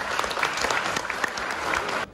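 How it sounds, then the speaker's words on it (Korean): Loud, dense applause from a wedding crowd greeting the bride's younger brother as he steps up to sing a congratulatory song, sustained steadily for about two seconds before cutting off. "여러분들 큰 박수 부탁드리겠습니다"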